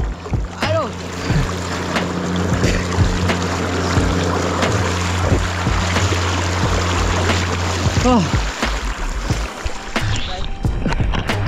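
A boat motor's steady engine drone hums throughout on Dayang Bunting Lake in Langkawi, Malaysia, with water splashing and wind buffeting, while voices call out and laugh over it.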